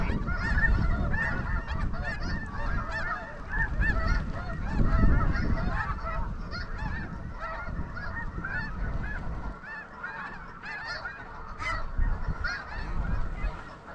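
A large flock of snow geese honks continuously in blustery winter conditions, a dense overlapping chorus of calls, some near and some farther off, with wind rumbling underneath.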